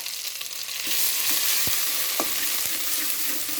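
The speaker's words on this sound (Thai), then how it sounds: "น้ำมันมันเดือดแล้วก็เอาสามเกลือเข้าไปพัดเลยเจ้า" Garlic, coriander root and pepper paste frying in hot oil: a bright, steady sizzle that swells after the first second, broken by a few sharp spatula clicks, no talking.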